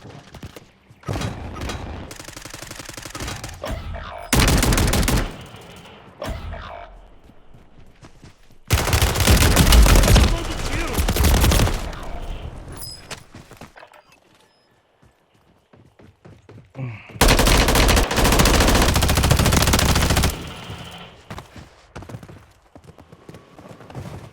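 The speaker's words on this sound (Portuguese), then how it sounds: "Tô levando tiro aqui." Gunfire striking the player in a Warzone battle royale match, with bursts of automatic shots and impacts in several loud clusters separated by quieter stretches of footsteps and movement.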